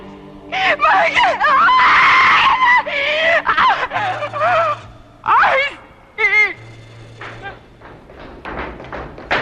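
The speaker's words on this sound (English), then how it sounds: "When we heard you scream, we didn't know what to think." A woman screams in a dramatic sci-fi audio drama, sharp high cries rising loud and close, mixed with excited talking voices and a few dull thumps, with sustained low hum underneath.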